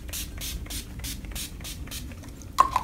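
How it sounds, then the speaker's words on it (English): An Urban Decay All Nighter makeup setting spray mists in a series of short, even hissing bursts, about seven quick pumps in a row, close to the microphone, followed by a faint clatter. "So I'm using my Urban Decay All Nighter spray"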